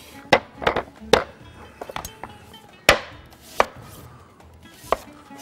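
A large onion being chopped on a board gives sharp, irregular knife knocks, a few quick clusters followed by single spaced strikes, close and clear over a quiet background with no talk.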